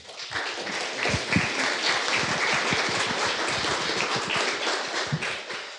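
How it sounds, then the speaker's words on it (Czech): An audience at an evening talk on marketing-friendly websites breaks into applause, a thick crackle of many hands with some sharper individual claps standing out, sustained for several seconds. "Já myslím, že to zaslouží potlesk."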